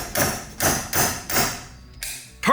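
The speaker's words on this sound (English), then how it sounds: "Hitting these bolts with the impact" Bursts from a bigger impact wrench hammering on bolts of an LT1 Camaro, four loud rattling bursts of roughly a third of a second each in steady succession, then a brief pause and a fifth burst starting at the end.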